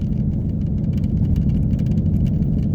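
A 2016 Ford Mustang on Bridgestone Blizzak WS80 winter tires rolls off a winter highway onto an exit, with a steady low engine and road rumble and faint tire hiss throughout.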